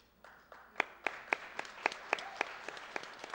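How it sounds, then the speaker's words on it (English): Scattered hand claps build into sharp, irregular applause from a small group, each clap crisp and close over a light background hiss. "A good water escape, always deserving of applause."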